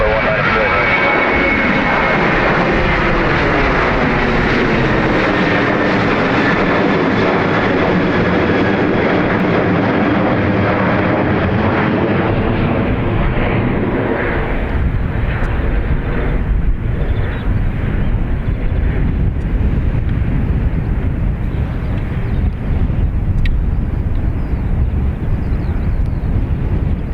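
A Ryanair jet departing runway 28 right at Dublin Airport, loud broad engine roar that swells and then slowly fades as it moves away, with talk over it throughout.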